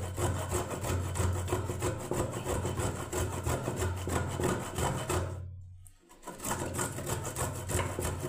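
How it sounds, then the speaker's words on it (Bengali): Ginger is rubbed into a paste on a grater in a home kitchen while sukto is being cooked. Rapid, rhythmic scraping strokes run continuously, with one brief pause near the end. "এবার আমি একটু আদাটা পেস্ট করে নিচ্ছি।"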